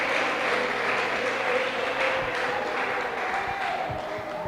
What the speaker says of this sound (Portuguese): Bate palmas para o Senhor Jesus.